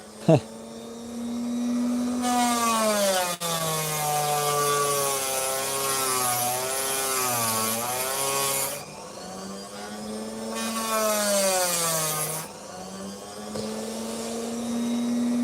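An opal stone is ground on a motorized grinder, giving a continuous whine that rises and dips in pitch as pressure changes, with a few brief rougher bursts over about fifteen seconds.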